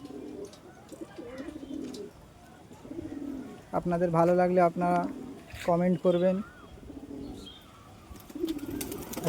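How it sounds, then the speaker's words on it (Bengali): Pigeons, including a male pigeon, give deep, throaty coos in two clear bursts near the middle, loud and close, while someone talks quietly before and after the calls. "এই যে একটা পায়রা নেমেছে, নর পায়রা।"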